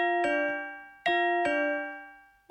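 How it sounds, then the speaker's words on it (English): A two-tone ding-dong doorbell chime rings out in a home kitchen, sounding twice with bright sustained tones that decay slowly, clear and fairly close with no talking over it. "Was that the doorbell?"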